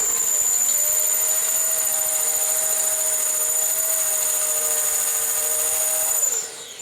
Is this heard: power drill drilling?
yes